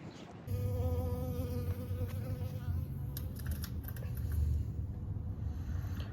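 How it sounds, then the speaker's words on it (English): Bees buzz steadily and close by in a continuous drone, with the pitch wavering as they move around outdoors. "the bees seem to be enjoying our plants outside"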